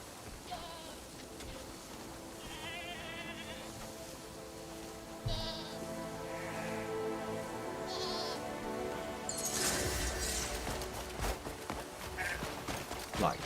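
A goat in a video game gives several short bleats scattered over a low ambient game backdrop, moderately loud and close, with a burst of louder game noise near the end.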